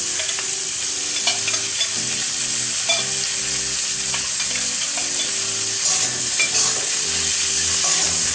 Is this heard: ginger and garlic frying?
yes